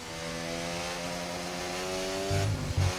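A Formula 1 car engine in the F1 24 racing game screams at high revs around the Monaco street circuit, with a steady, whining tone that rises in pitch before a sharp shift and rev.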